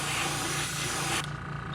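Aerosol or airbrush spray of black base coat onto a crankbait fishing lure, a steady close hiss that holds loud, then drops abruptly to a softer, duller spray near the end.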